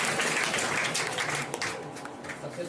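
Applause from the crowd at a student awards ceremony for a coaching centre, a dense wash of clapping that fades slightly toward the end, fairly soft and brief.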